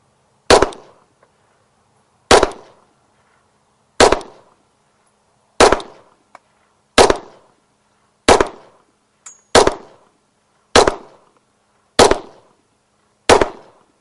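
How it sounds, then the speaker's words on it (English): Ten sharp, loud pistol shots fired at a target from behind a barricade during a firearm compliance assessment, evenly spaced about every second and a half, each crack ringing briefly before silence, with no voices. "We're going to focus on target and fire your 10 shots."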